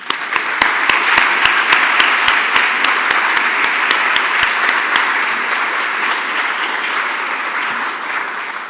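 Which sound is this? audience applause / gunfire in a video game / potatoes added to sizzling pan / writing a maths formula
audience applause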